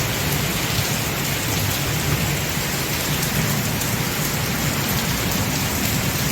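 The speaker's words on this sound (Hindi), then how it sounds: "देखिए ज़बरदस्त मूसलाधार बारिश हो रही है।" Heavy torrential monsoon rain pours steadily in a dense, loud hiss with a low rumbling undertone of thunder throughout, unbroken and close, with no voices.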